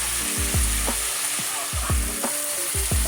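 Beef searing in a pot for stew gives a steady, dense sizzle under a constant background hiss, with repeated low thumps and scrapes from stirring or moving the meat, close and without talk.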